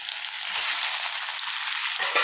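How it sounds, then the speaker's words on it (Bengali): Garlic dropped into hot mustard oil in a wok, a close, bright, steady sizzle with a sudden crackling burst near the start and another surge at the end, no talking. "আমি কড়াতে প্রথমে মাস্টার্ড অয়েল দিয়ে দিচ্ছি, গরম হয়ে গেছে। ওর মধ্যে দিচ্ছি রসুন দিচ্ছি"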